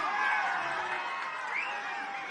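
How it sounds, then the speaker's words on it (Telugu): Crowd cheering and whooping at a dharna sit-in protest near Indira Park, a dense, steady wash of many voices held throughout with a rising shout near the middle. "అన్నకు గట్టిగా చప్పట్లతో కృతజ్ఞతలు చెప్తాం"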